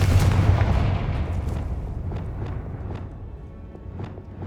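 A Confringo spell explosion in Hogwarts Legacy, a heavy rumbling blast up front that decays into crackling debris and scattered sharp pops, loud and close.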